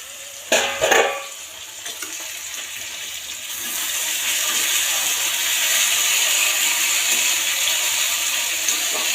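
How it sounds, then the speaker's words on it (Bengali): Potatoes fry in oil in a pan: a few sharp clatters open, then a loud, steady sizzle swells and holds through the rest. "আর এই যে আলু ভাজাটা বসিয়েছি।"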